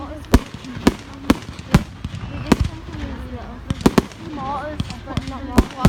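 Bonfire night firework mortars burst in a rapid series of sharp, loud bangs, some near and some farther off, with crackling between, while people talk over them throughout.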